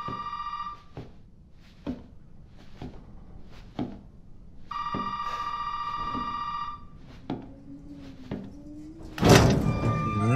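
An old-style telephone rings inside the Resident Evil 7 horror game, with two long electronic ring bursts set among heavy thuds and footsteps, before a loud crash at the end.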